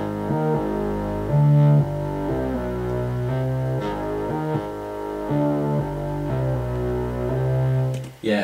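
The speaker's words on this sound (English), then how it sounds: "70s kind of synth bass that you can find in Alchemy on Logic," A 1970s-style synth bass from Alchemy in Logic plays a simple repeating melody of sustained, buzzy low notes, loud and continuous with no other sounds.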